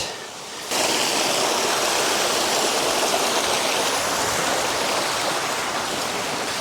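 A river beside a steep mountain path on Skiddaw rushes in a loud, steady broadband roar that starts abruptly after a quiet moment and continues close by without talking.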